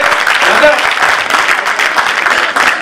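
Audience applause at a large political event in the Delhi NCR region, a dense patter of clapping that runs continuously under someone speaking loudly over it.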